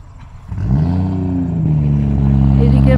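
Car engines hum and rise in pitch through a parking area, a low steady drone swelling as vehicles pass close by, continuous and loud for the whole stretch.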